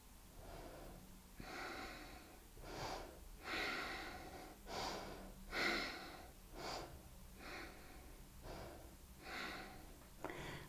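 Slow, deep breaths during a vinyasa yoga flow, roughly ten long airy inhales and exhales in steady rhythm, close and fairly soft with no talking.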